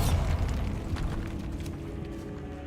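A Bombarda spell in Hogwarts Legacy bursts as a deep, rumbling blast that fades away over a couple of seconds, heavy in the low end with no voices over it.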